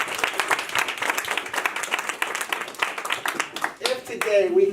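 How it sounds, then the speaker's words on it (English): An audience at a pitch competition breaks into steady, close applause that fills the room, while a host keeps speaking over the clapping. "Let's give them a round of applause, right?"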